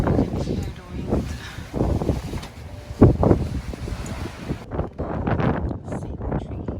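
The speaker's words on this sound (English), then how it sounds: "You can hear the wind." Blizzard wind in Saskatoon, Canada, roars steadily as broad, gusting noise buffeting the microphone outdoors with falling snow, loud throughout and easing slightly near the end.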